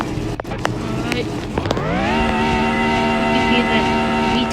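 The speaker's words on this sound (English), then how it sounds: "You hear that V12 scream." Pagani Zonda R V12 engine in a video game rises in pitch, then holds a high, steady scream that stays loud and close, with brief clicks beforehand.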